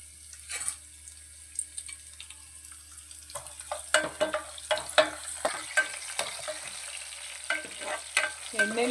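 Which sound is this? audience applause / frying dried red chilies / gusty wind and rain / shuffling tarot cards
frying dried red chilies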